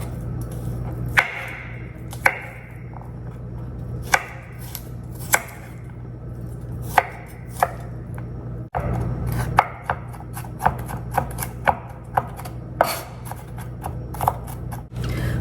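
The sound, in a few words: chopping vegetables on a cutting board for chickpea soup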